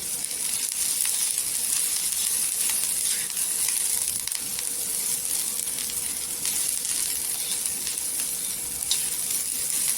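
An inch of ginger and ten or twelve garlic cloves dry-roasting in a pan for a soybean curry, a constant bright hiss and sizzle with occasional light ticks and scrapes, steady and fairly close, no voices.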